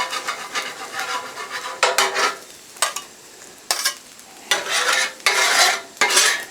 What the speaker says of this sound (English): We will get that and mix that in with the fried rice.